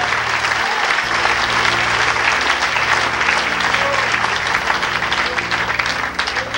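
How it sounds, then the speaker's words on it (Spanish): A church congregation claps together in loud, sustained applause at a Spanish-language service, dense and continuous throughout with some crowd noise mixed in. "Denle un aplauso al Señor."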